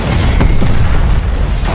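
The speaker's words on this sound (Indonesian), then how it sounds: "mereka langsung dikejutkan dengan sebuah ledakan yang dipasang di sekitaran rumah John." A heavy, loud boom from an explosive set around a house in an action film, a deep rumbling blast that fills the short moment.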